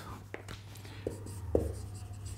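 Writing on a board during a physics lesson, a few short scratchy strokes and taps spaced irregularly over a steady low hum, close and fairly quiet, with faint breathy voice traces.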